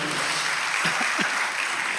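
A congregation at a church service claps together in a sustained burst of applause, dense and even throughout, with a couple of brief vocal sounds rising over it.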